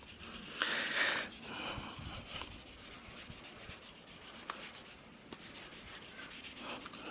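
Steady, soft rubbing and scraping of sandpaper worked by hand across car clear coat, continuous with slight rhythmic variation and no talking.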